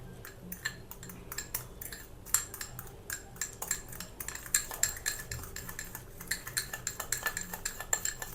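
A fork scrapes and taps against a bowl while mashing ingredients for a homemade skin pack, a busy run of quick, light metallic clinks and scrapes continuing throughout, close by, with no talking.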